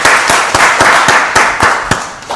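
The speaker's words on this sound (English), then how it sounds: "Let's give them a round of applause as well." A small group at a county board of commissioners meeting claps in a brief, even round of applause, with sharp, regular, close-up hand claps and no talking.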